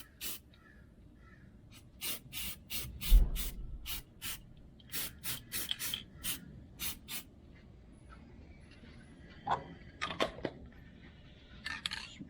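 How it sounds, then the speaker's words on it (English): Rapid short hisses of Krylon spray paint hit a Chevy El Camino control arm in a garage, bursts repeating in an irregular rhythm and then thinning to scattered faint sprays. "I'm going to go ahead and shoot some paint on it"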